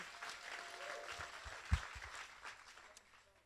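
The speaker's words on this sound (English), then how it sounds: "Let's give a round of applause for the Atlanta team." Scattered, fairly faint applause at a company all-hands meeting welcoming a team, with a few louder thumps partway through before the clapping trails off.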